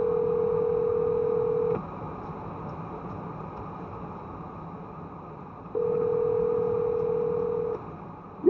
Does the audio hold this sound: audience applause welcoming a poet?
no